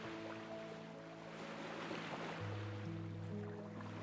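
Gentle waves wash onto a sandy shore on a calm beach with no wind, a soft continuous hiss of water under a steady low hum.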